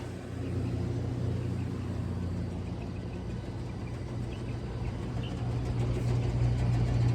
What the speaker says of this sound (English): I hear our blower doing something in here. Doesn't sound great.